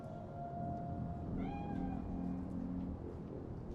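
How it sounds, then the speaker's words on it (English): A cat spirit in Cyberpunk 2077 meows once, a clear drawn-out mid-range meow heard over a low steady rumbling ambience. "It is a cat spirit."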